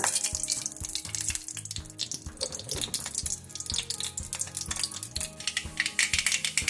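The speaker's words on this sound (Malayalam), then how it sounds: "കടുക് പൊട്ടുന്നുണ്ട്." Mustard seeds popping in hot coconut oil for a cucumber curry, a dense run of sharp crackles and spits close up, steady and busy with no talk.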